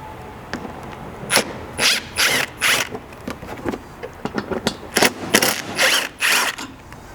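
A 10mm ratchet clicks in repeated bursts as it removes the fasteners holding a front bumper fascia on a 200 Series Land Cruiser, close and crisp, with short pauses between runs.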